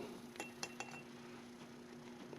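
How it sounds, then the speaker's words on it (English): Glass clinking as a small sample of homemade red wine is drawn and poured into a wine glass: a few light, sharp chinks near the start, then quiet with a steady low hum underneath. "I'm going to take a little sample out of here, try to get it into my glass."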